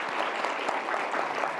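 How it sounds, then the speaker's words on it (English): A conference audience applauds in a dense, even wash of clapping, steady and moderately loud throughout the short stretch, at an Alaska Native Studies keynote. "Let's give everybody a round of applause."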